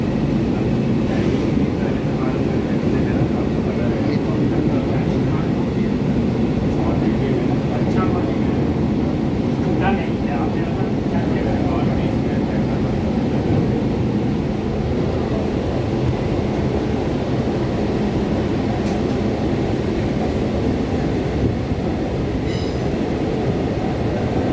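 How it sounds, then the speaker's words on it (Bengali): A Kolkata Metro rake runs between stations toward Satyajit Ray, filling the car with a loud, continuous rumble of wheels and rails and brief faint squeals, with a voice now and then under the noise. "এটা মেট্রোর রেক, পরবর্তী স্টেশন সত্যজিৎ রায়।"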